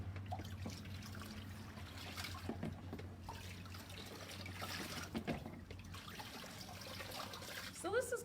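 Water trickles and splashes softly over marbled paper during a Turkish marbling rinse, a continuous low flow with a faint room hum underneath.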